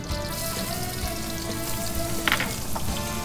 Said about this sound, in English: now in the same fat, we're going to saute some of the shallots